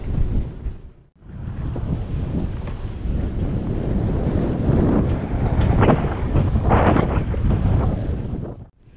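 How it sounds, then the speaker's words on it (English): Strong wind buffets the microphone steadily as a sailboat motors upwind into a marina, a continuous loud roar with gusty swells throughout and no talking. "the wind is coming around, and here I'm facing pretty much dead upwind right now"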